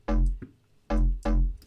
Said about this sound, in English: Native Instruments, their track one bass.